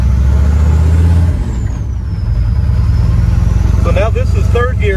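A diesel pickup truck with a fuel injection pump fault pulls away in second gear on flat ground, its loud, rumbling engine droning steadily close by, a brief whine sweeping over it and a voice coming in near the end.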